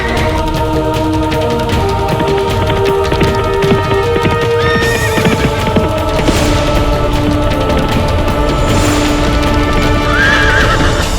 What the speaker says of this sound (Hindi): प्रताप का घोड़ा भिदक रहा है